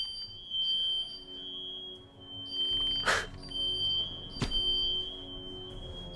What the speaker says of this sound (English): the fire alarm's going off.